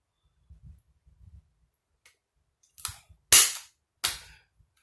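Scissors or a blade cutting through a Jot file folder, a few soft taps then three sharp, snapping cracks close by, the loudest in the middle, with no talking.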